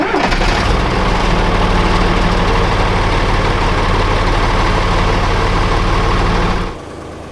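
A Magirus truck's diesel engine runs loud and close, a heavy, steady, rough idle with a deep throbbing rumble that carries for several seconds before cutting off abruptly near the end.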